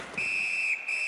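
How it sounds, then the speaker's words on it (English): A referee's whistle sounds in an NHL 19 hockey video game, one sharp, clear blast held for about a second, loud and alone. "And holds on to that puck to get the whistle."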